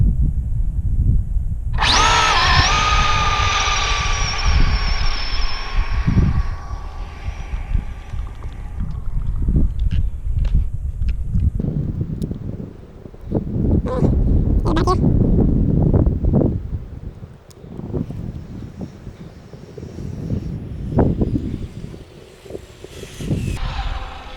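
An Arrma Limitless V2 6S RC car on a speed run: a loud, rising electric whine builds sharply and holds as it accelerates away, then fades into scattered clicks, knocks and rumbling background noise.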